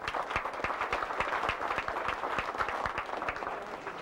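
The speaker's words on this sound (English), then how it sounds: "You people deserve a great round of applause to yourselves for filling this room here tonight." Applause from a dinner crowd filling a room at a political fundraiser, a steady wash of many hands with sharp individual claps standing out, sustained and fairly close for the whole stretch.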